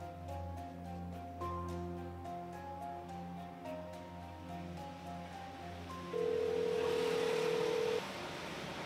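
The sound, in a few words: telephone ringing while making a call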